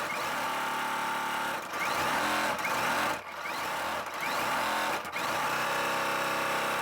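Sewing machine stitching quilt block pieces together, a fast steady mechanical whir running in bursts with several short pauses between seams, close and alone.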